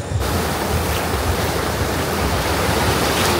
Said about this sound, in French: J'ai peur des vagues.